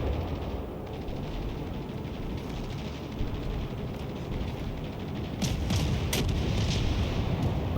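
Naval HE shell fire rolls through a World of Warships Legends battle, repeated cannon booms and rumbling blasts swelling over steady low battle noise, louder toward the end.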